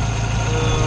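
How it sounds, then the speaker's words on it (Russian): A Moskvich 403 idles with its engine running and gearbox whining, a steady close drone with a sustained mid-pitched whine over the low rumble. "Коробка очень сильно воет, правда."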